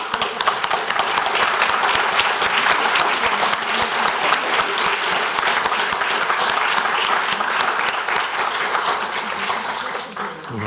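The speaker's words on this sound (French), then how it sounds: "Donc je voulais qu'on applaudisse peut-être Chris." An audience gives Chris sustained, dense applause at a talk on philosophy, architecture and urbanism. The clapping is loud and continuous for about ten seconds and thins out near the end.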